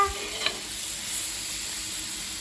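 Grated coconut fries in a pan with a steady, close sizzle, broken by a couple of scraping stirs near the start, and no talking.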